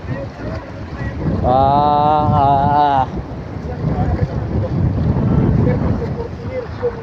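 Strong wind rushes over open water beside a boat, a continuous buffeting roar on the microphone, with people talking and a brief tonal call rising above it midway.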